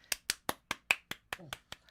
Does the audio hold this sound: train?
no